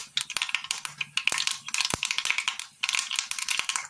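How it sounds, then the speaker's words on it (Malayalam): Mustard seeds splutter in hot oil in a pan, a close, busy crackle of many small sharp pops and spits that continues without pause and without any talk. "കടുക് ഒന്ന് പൊട്ടി വരുന്ന നേരം"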